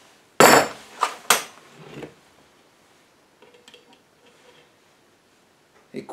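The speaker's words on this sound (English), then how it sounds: "We have got a Herbrand speed wrench. That's a lovely noise." A Herbrand speed wrench from a military tool cabinet gives a few sharp metallic clacks close to the microphone, then near silence with faint handling noise.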